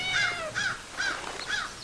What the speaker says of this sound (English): she would crow and crow until I let Cassie out